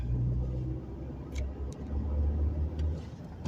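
Manual transmission car driving along in fourth gear after an upshift, a steady low engine and road rumble from inside the cabin with a few faint ticks.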